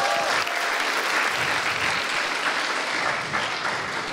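Audience applause at a live stand-up comedy show on a campus stage, a loud, steady burst of many hands clapping that carries through the whole stretch without pause.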